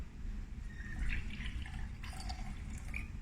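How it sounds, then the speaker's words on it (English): Liquid acid, likely vinegar, poured into a cup, a soft continuous trickle and splash heard close up and fairly quiet, with no talking over it. "Now, Ian, pour this into the cup"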